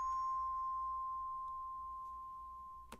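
Orchestra bells struck and left to ring, a single clear bell tone sustaining steadily and fading slowly over about three seconds, with a faint light tap near the end.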